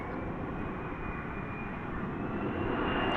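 Airliner taking off on a long roll at DFW airport at night, a steady distant jet roar that swells slightly toward the end, with no voices.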